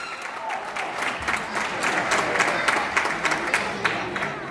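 A crowd applauds wrestlers at a 2019 Titanes en el Ring lucha libre show. The clapping is moderately distant and builds into a thick, even patter, with sharper individual claps standing out near the end.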